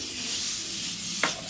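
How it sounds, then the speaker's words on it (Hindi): Minced meat cooks with spices in a hot pan, giving off a soft, steady sizzling hiss with one brief scrape or stir near the end, quiet and close with no talking. "कीमा डालकर हमें अच्छे से भूनना है।"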